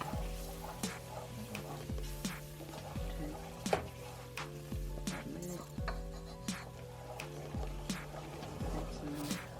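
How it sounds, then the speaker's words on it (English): Vegetables sauté in a dark gumbo roux for chicken sausage and shrimp gumbo, a steady soft sizzle broken by regular scraping clinks of a spoon stirring the pot, with no talking. "it's going to instantly start to sizzle and thicken up"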